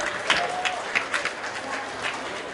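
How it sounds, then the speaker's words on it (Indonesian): Scattered, uneven clapping from a crowd at the DKI Jakarta provincial pavilion at the Jakarta Fair 2016, a few distinct claps over a bed of busy crowd noise and murmur rather than a full ovation. "Boleh tepuk tangan yang meriah."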